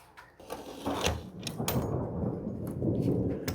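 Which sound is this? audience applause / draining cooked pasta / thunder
thunder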